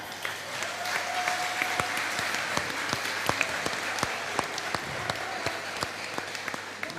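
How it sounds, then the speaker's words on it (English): Festival audience at a stand-up comedy show applauds, a steady sustained wash of many hands with sharp individual claps popping out, heard a little distant and without talk. "no, feel free to clap."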